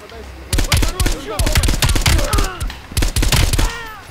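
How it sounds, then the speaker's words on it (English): Gunfire in the Call of Duty Black Ops Cold War campaign, with rapid bursts of sharp, loud shots that come in quick clusters and echo close by. "I'll shoot him. I'm gonna take a shot from up here."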